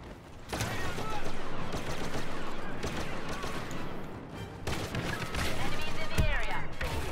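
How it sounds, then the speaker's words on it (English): Explosive shot blaster fire in Star Wars Battlefront: dense, continuous rapid shooting and blasts across the whole stretch, loud and close with crashing impacts, a voice faintly mixed underneath. "I had explosive shot and I shot him point blank range"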